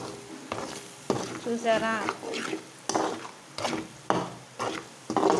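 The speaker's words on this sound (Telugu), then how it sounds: "ఇవన్నీ వేసి చిన్నగా ఇదే ఆయిల్లో అంతా అలా కలుపుకుంటూ ఉండాలండి" Spices such as coriander powder being stirred into hot oil in a pan, with soft scraping strokes and a light sizzle that come and go in bursts under someone speaking between stirs.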